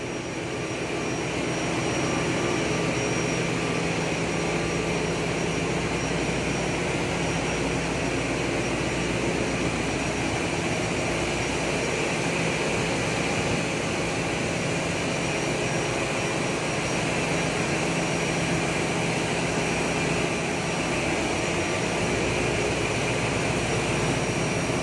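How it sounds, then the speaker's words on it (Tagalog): A 900-kilowatt turbine generator running in a tanker vessel's engine room, a loud, unbroken, dense mechanical roar with a steady whine that holds level throughout. "Ito yung turbine generator. Ito 900 kilowatts yung max nito."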